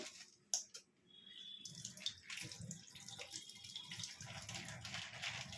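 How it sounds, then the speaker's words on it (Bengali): A small splash of water pours into a bowl of whisked mutton rogan josh mixture, a brief tap-like trickle and gurgle following a couple of sharp knocks, close and quiet, with no voices. "একটু জল দেবো"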